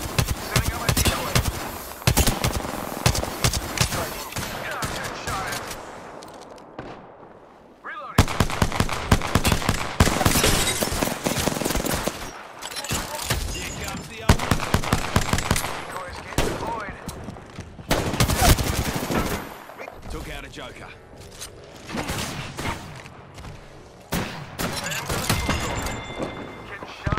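Enemies fire at the player in Apex Legends with loud, repeated bursts of gunfire and rapid cracking shots across the whole stretch, broken by a brief lull, with occasional game voice lines.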